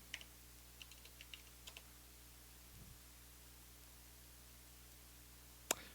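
Password keystrokes on a computer keyboard: a handful of soft, quick clicks early on, then one sharper tap near the end, over faint steady hiss.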